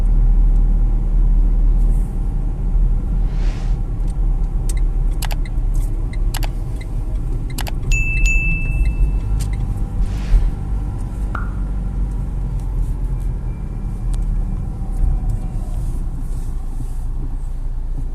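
A car drives along during a driving school lesson with a constant low engine and road rumble, interrupted by a few faint clicks and rattles inside the cabin, with no voices.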